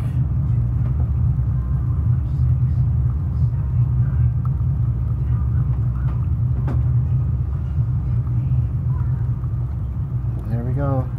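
An airliner rolls out after landing with thrust reversers deployed and the brakes applied, heard as a heavy, steady low roar and rumble that fills the whole stretch at high volume.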